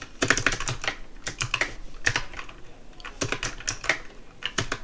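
Rapid, uneven bursts of typing on a computer keyboard, close and crisp, with short pauses between runs of clicking keys and no talking.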